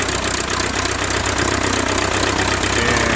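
A 1912 Taube aircraft engine runs steadily at a little throttle, a loud, continuous rough drone with dense rhythmic firing and blowing air, close by and without talk.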